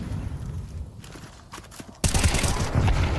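Gunfire in Counter-Strike 2 during a professional major match: quiet muffled clicks and scattered shots give way to a sudden loud burst of rapid close firing in the second half.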